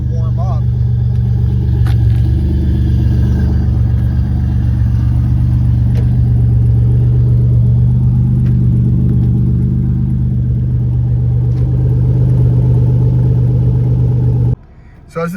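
A Pontiac Fiero with a swapped 3.8 V6 idles steadily while warming up, a loud, even low rumble close by that runs nearly the whole time before cutting off at the end.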